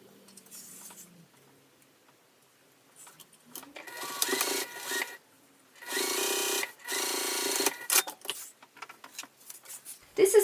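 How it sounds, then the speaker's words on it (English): A sewing machine stitches one row of binding onto a crossbody bag in several short, loud, rapid bursts separated by quiet pauses and faint handling noises. "I'm just going to base this in place with 1 row of stitching."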